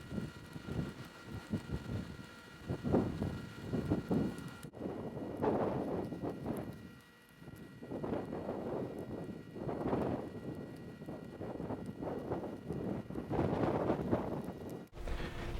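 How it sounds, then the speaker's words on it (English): Gusty wind blows outdoors while bonsai leaves are being trimmed, buffeting the microphone in irregular loud surges and rumbles that rise and fall over several seconds. "It's a pretty windy day out here today"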